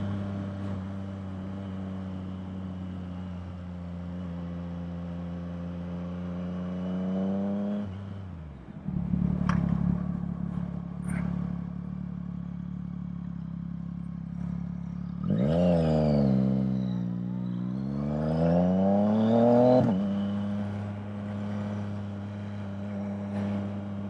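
A Yamaha MT-09 three-cylinder motorcycle with a slipper clutch revs up from idle, then drops back, and after a pause roars through a second, louder rising and falling rev, close and without talk.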